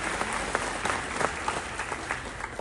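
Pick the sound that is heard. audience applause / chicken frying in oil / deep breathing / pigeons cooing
audience applause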